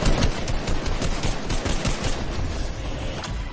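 Gunfire in Fortnite crackles in a dense, continuous burst of rapid shots. It stays loud and close, without a break, with no talking over it.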